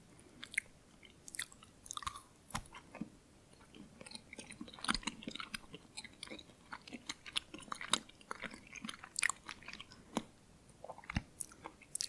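Close, quiet chewing of Norwegian licorice candy, with irregular sticky crunches and mouth clicks scattered over soft wet mastication, no talking.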